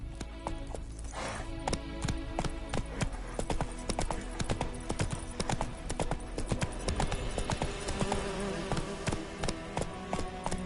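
Roach, the horse in The Witcher 3 on PS5, galloping with a steady, rapid clip-clop of hooves, loud and close, continuing unbroken throughout.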